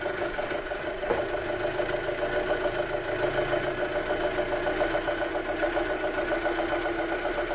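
An Audi A6 2.0 TFSI engine runs with its oil dipstick pulled open, holding a steady, slightly raised, busy mechanical drone with a faint airy hiss, close-up and continuous.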